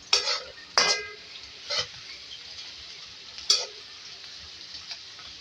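Chicken fries in oil in a karahi for chicken karela, a low sizzle broken by a few sharp metallic scrapes and clinks of the spoon against the pan, with no talking.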